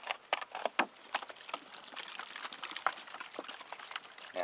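Water poured onto burning campfire embers hisses and crackles, with sharp irregular pops and sputters over a faint steady sizzle.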